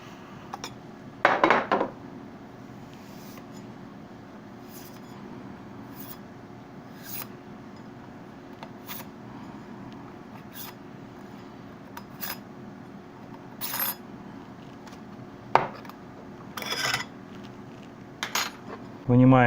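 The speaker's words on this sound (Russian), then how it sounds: "Далее нам нужно извлечь внутреннюю линзу. Для этого также можно воспользоваться ключом." Scattered small metallic clicks, taps and scrapes of a spanner key removing the inner lens of a camera lens close up, separated by quiet pauses.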